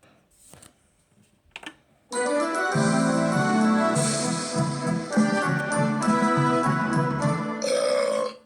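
After a few faint clicks, a long, loud, drawn-out burp rumbles for about six seconds, deep and throaty, ending abruptly.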